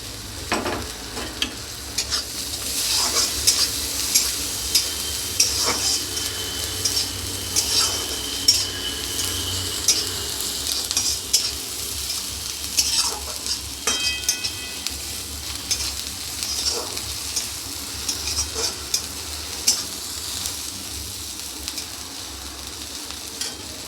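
Chopped onion, green chilli, garlic and ginger sizzle in hot oil in a pan, with a constant frying hiss and repeated spatula scrapes and clinks close up, and no one speaking.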